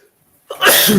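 A single sharp sneeze bursts out close and loud after a brief near-silent pause, during a live football chat stream.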